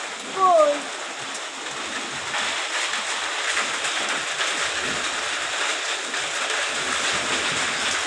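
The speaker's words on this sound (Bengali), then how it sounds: "আওয়াজ হচ্ছে তো টুকটুক করে পড়ছে এই যে ছোট ছোট পড়ছে শিল" Small hailstones patter down with rain during a spring storm, a steady broadband hiss of many tiny impacts running throughout; a brief voice sounds near the start.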